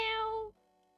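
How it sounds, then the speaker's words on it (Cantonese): A single deep-toned cat meow, close and fairly loud, lasting about half a second before cutting off to near silence. "有啲男人聲啲嘅貓"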